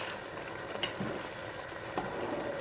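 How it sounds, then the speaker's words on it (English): Rice bubbles in a pot of water for chicken biryani, a soft steady simmering hiss with faint scattered pops and a couple of light clinks, close and quiet with no talking. "They're nearly boiling now."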